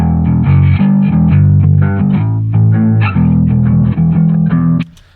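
Playback of a recorded P-bass bass guitar run through BIAS FX 2 amp modeling, a steady, loud sequence of deep plucked bass notes with clean tone, continuing without pause before cutting off sharply near the end.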